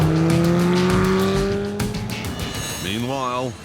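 Sports cars including a Porsche accelerate along a Swiss mountain pass, engines roaring loud and close with rising revs and a brief tire squeal, then a second engine climbs through gears toward the end under a voice-over.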